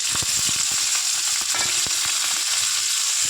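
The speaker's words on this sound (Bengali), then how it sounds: "প্রথমে দিয়ে দেবো পেঁয়াজটা ভেজে নেবো।" Onion frying in a pan for a new-style egg chop, a steady bright sizzle with scattered stirring scrapes and clicks, close and continuous without any talk.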